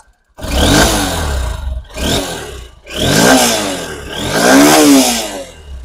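A second-hand Honda X-Blade motorcycle engine is revved in four strong bursts, each rising and falling, with short gaps between them, close and loud with no voices.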